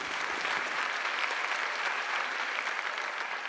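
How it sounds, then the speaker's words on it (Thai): An audience on a Thai singing competition show applauds steadily. The clapping forms a dense, even wash that runs unbroken for a few seconds, with no talk over it. "ปรบมือให้หน่อย"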